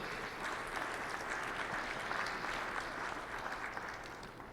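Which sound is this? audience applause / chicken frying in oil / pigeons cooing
audience applause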